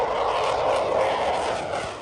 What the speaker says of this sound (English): French fighter jets scrambled over Polish skies as Russian drones breached NATO